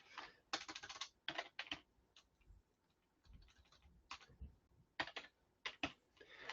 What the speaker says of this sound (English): my typing sucks